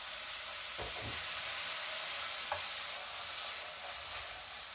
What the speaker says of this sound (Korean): 이거 간장 쪼르륵 쪼르륵 두번 참기름 해서 마늘을 조금 볶으다가 멸치를 넣어주세요.